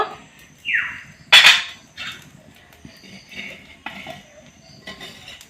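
Metal lid lifted off a pan where mini chitai pitha made with milk is cooking, a bright clattering clink standing out near the middle, with lighter kitchen clatter and someone speaking around it.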